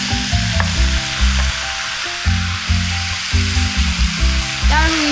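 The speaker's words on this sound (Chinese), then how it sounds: "在翻炒均匀之后，我们下入草菇。" Vegetables, bitter melon and straw mushrooms stir-fry in a wok with a loud hiss and repeated scraping tosses over soft background music.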